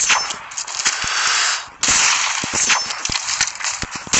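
Sniper rifle gunfire in the Call of Duty Mobile video game: sharp, loud shot cracks repeat at irregular intervals, with one brief drop-out midway and no talking.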